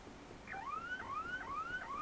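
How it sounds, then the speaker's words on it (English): Repeating electronic alarm in the Ghost Trick video game, each cycle a rising whoop tone, sounding steadily at moderate level for several repeats with no talk. "And there's the alarm."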